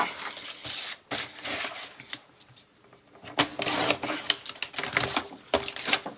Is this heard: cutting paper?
yes